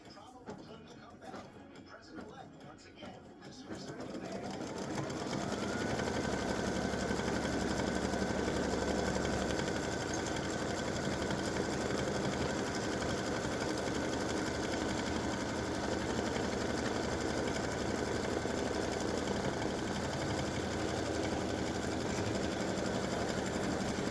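An embroidery machine stitches a patriotic or veteran appliqué design with a side seam split, starting with a brief quieter stretch and then running in a loud, steady, continuous whir close by.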